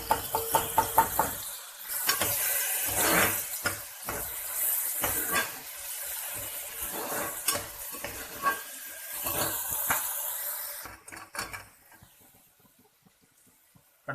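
Ginger and garlic sizzle in a hot pan of oil with bay leaf and star anise while tomato rice is being cooked, a steady hiss broken by spoon stirs and clinks against the pan, fading out near the end.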